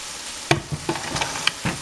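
Chopped vegetables dropped into a hot skillet for a stovetop fried chicken pie, sizzling in bursts with sharp hissing spikes as pieces land and are stirred, close and fairly quiet.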